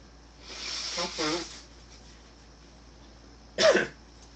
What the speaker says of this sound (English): I'm gonna blow my nose because I feel like I'm a little bit boogery right now.